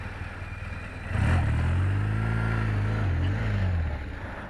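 A dirt bike engine revving up from a low idle into a loud, rising drone that holds for a few seconds and then drops back down, close by.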